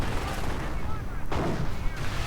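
Panther tanks fire their guns in a World War II strategy video game battle, with dense, loud booming blasts and rumbling battle noise filling the short stretch over a continuous roar.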